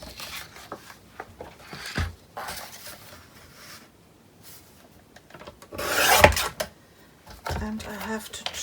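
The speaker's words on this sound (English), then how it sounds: "So I will cut my papers at 8 inch in the heights." Paper being trimmed to eight inches tall with a cutter, giving scattered soft rasping strokes, one louder sharp slice near the middle, heard close up in a quiet room.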